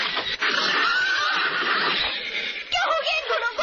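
Horses neighing loudly in a long, wavering whinny that is followed by further agitated whinnies, close by and filling the scene.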